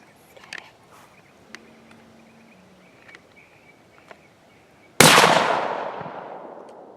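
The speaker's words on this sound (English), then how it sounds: "we're going to be shooting at a double stack set of pop cans" At an outdoor range, a rifle fires at a double stack of pop cans. After several seconds of near quiet with faint small noises, one sharp, loud shot cracks out and rings off in a decaying echo.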